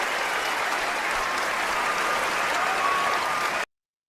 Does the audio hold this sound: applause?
yes